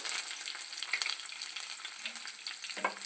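Steady, soft frying sizzle of onion pieces in oil, continuous with faint stirring clicks and no voices.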